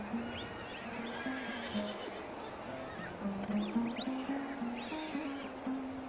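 Kazakh horse of the Ile breed whinnying and neighing repeatedly over a steady background murmur, with a wavering high call rising and falling several times across the stretch, moderately near.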